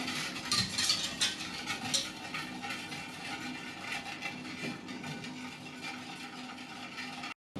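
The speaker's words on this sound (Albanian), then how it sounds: "Do ta trazojmë derisa të shkrihet sheqeri, të fillojë të marrë val" A spoon stirring pomegranate juice and sugar in a pot, with soft scraping and light metallic clinks against the pot, close and fairly quiet, steady throughout before cutting off at the end.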